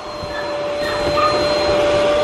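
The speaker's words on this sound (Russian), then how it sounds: "Пылесос супер." A vacuum cleaner runs steadily and close, its whining motor drone holding a constant pitch and growing slightly louder, with no talk over it.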